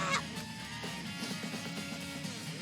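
Video game chickens, a small flock, clucking and squawking in short, overlapping calls over a faint background hum, fairly quiet and with no voices.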